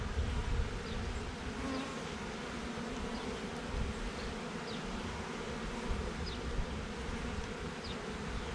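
Honeybees hum in a steady, dense drone while a tree trunk hive colony is opened and inspected. The buzz is close and continuous, with no talking.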